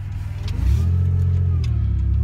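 A van's engine pulls away and accelerates, a steady low mid-range drone that swells and holds close and loud, with no talking.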